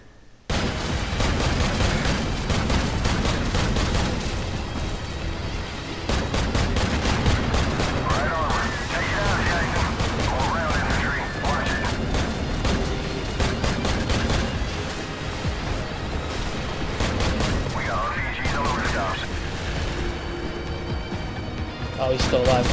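Sustained gunfire in the game Call of Duty 4: Modern Warfare, rapid machine-gun bursts and single shots at a loud, constant level for over twenty seconds, with a player talking throughout.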